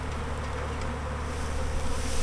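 Honey bees in a garden buzz around hive boxes with a continuous faint hum that swells a little toward the end, and nobody speaks.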